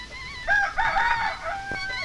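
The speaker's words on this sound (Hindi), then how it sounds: "मुर्गा मुर्गी।" A rooster crows once in a Hindi drama film, a single clear, fairly close cock-a-doodle-doo lasting about a second, with no talk over it.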